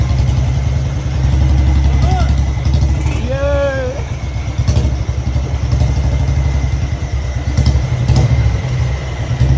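A tractor engine chugs steadily nearby in a continuous low clatter, with voices talking over it.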